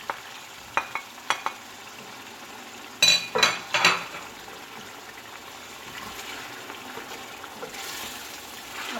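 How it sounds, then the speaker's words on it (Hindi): Tomatoes frying in a pan for a chicken stew, with a cluster of scraping stirs and utensil clinks midway over a faint, steady background sizzle. "अब टमाटर को भून लेंगे"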